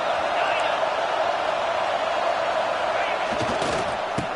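A stadium crowd at an American football game roars as the home fans try to spur the defense to a red zone stop. The dense, steady wash of noise holds at high volume throughout, with some voice mixed in.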